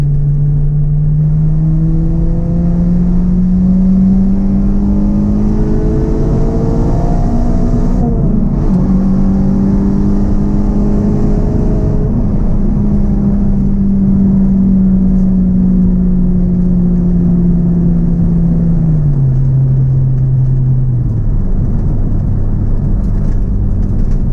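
Acura RSX Type-S with a cold air intake revving steadily, its engine tone climbing and holding into the VTEC range before easing off near the end; loud and close, no talking.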